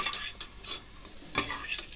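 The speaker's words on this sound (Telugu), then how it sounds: "నేతిలో ద్రాక్ష వేయించుకున్నాము" Raisins frying in ghee for wheat halwa, a soft sizzle broken by spoon-stirring scrapes against the pan, quiet and close with no voices.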